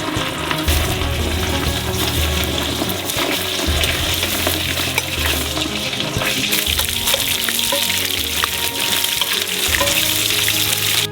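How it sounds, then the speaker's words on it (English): Meal frying in about 600 ml of hot sunflower oil in a cauldron for Uzbek pilaf at a street food stall, a loud, steady sizzle and crackle with clinks and stirring throughout. "And just fry it for a couple of minutes until golden brown."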